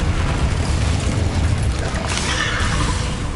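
An Incendio fire spell cast in the video game Hogwarts Legacy: a loud, dense roaring whoosh of flame fills the whole moment, flaring brighter and hissier toward the end.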